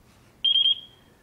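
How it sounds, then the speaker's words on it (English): A FrSky Taranis radio transmitter beeps in bind mode: a short, high-pitched electronic tone with a few rapid pulses, close and clear against faint background hum. "on your Taranis, you select bind and start beeping"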